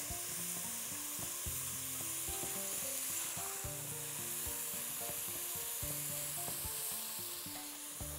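Meat sizzles steadily in hot ghee in a pan, a dense, close crackling hiss that runs without pause, with occasional clinks and scrapes of stirring and no voices.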